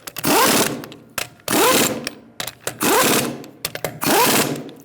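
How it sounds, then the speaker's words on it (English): Lug nuts on a Ford Taurus wheel are run down with a 19mm socket and a rapid impact gun, heard as four loud, close buzzing bursts separated by short pauses. "Using a 19mm socket, you're going to tighten up your lug nuts, starting in a star-like pattern."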